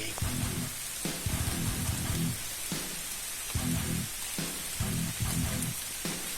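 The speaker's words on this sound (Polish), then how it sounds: "no widzicie pada." Steady rain hisses across the whole clip at night during feeder fishing, with a soft broadband patter and low rumbling bursts coming and going beneath it.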